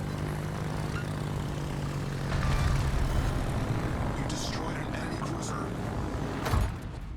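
Propeller aircraft engines drone steadily from HE bombers in World of Warships, a continuous mid-loud hum that swells slightly midway, with a sharper burst near the end and voices talking over it.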